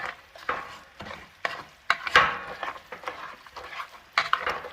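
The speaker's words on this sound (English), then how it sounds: "I'm going to give it a stir before I add the second pack of sauce mix" Orange chicken and sauce mix stirred in a pan, with rhythmic scraping and clacking strokes over a soft sizzle, close and fairly quiet.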